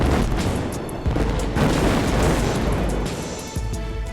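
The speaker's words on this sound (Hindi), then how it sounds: "कतर के रास लफान इंडस्ट्रियल सिटी में हुआ भीषण विस्फोट" A massive gas plant explosion at Ras Laffan Industrial City in Qatar, heard as a loud sustained roaring rumble with several heavy booming hits, close and dense throughout.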